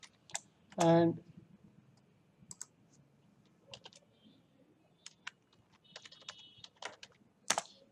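A password is typed on a computer keyboard, sparse individual key clicks spread unevenly across the stretch, faint and close, after a brief spoken word near the start.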